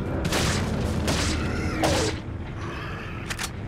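Dynamite goes off in Resident Evil 4, several heavy booming blasts with crackling debris arriving in quick bursts, loud and close, with no talking.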